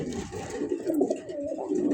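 Soft, low cooing of a red racer pigeon rolls on continuously for a couple of seconds, close by, with a faint murmur of background noise.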